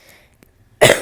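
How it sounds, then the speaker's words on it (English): A single loud, harsh cough bursts out near the end after a stretch of near silence. "Sorry, I was coughing."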